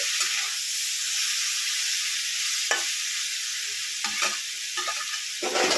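Pointed gourd and potatoes fry loudly in a pan, a dense hissing sizzle punctuated by several scraping stirs of a spatula.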